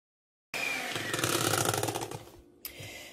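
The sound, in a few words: electric mixer mixing cake batter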